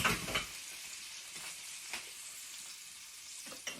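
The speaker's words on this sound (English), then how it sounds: "So now we want to deglaze our pan. So into that, in goes that lemon juice." Lemon juice hitting a hot pan for chicken piccata: a sharp burst of loud sizzle at the start that settles into a softer steady frying hiss with a few light clinks, no voices.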